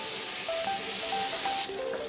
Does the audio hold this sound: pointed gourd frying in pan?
yes